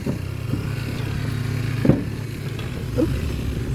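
Motorcycle engine running steadily at a low, even rumble, close by and continuous, with a couple of brief knocks along the way.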